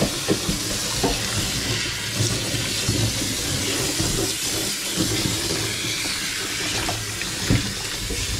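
Water pours out of a basin in a continuous hissing, splashing stream, steady and fairly loud with a few small splashes, and no talk over it.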